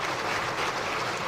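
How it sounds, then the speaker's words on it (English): Steady, dense clapping from a crowd at an International Women's Day event in Ghana fills the whole moment, loud and continuous with no voices standing out. "Another round of applause for the Chief of Staff."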